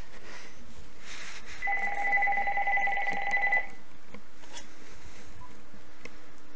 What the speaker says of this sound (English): My phone's ringing, that's odd.